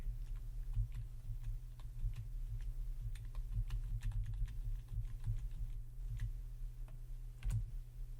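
Small clicks from the FMS knob on a Garmin G1000 as a destination is entered, quick, irregular taps over a constant low engine or fan hum, with no one speaking.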